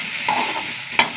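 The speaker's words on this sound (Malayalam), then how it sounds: "വറുത്തെടുക്കട്ടെ കേട്ടോ. വെണ്ടയ്ക്ക വറുത്ത് വന്നു കേട്ടോ." Okra frying in a pan over a low flame with very little oil: a soft, even sizzle broken by two short metallic utensil clinks.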